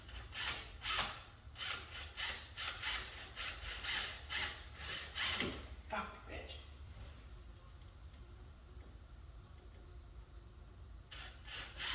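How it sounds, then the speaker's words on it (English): Small self-drilling screws are driven by hand into little holes on a 1992 Ford Bronco while a soft topper is fitted, giving repeated rhythmic rasping, scraping strokes up close, then quieter rustling and a few final scrapes. "we're gonna take those self-drilling screws and we're gonna screw them into these little holes on here"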